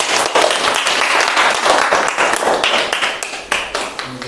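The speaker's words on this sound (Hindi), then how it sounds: "ताली बजाइए।" A group breaks into lively applause at an acting workshop, crisp close clapping that holds steady for several seconds before thinning out toward the end.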